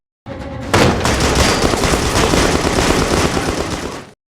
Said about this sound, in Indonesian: Akhirnya Henry dan Danny menembak satu persatu pasukan musuh.